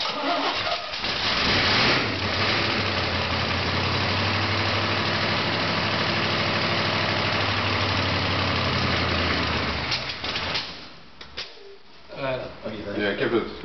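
A poorly timed engine runs loud and close, a steady throbbing idle with rough pulsing that holds for about ten seconds before dying away into quieter shuffling noises.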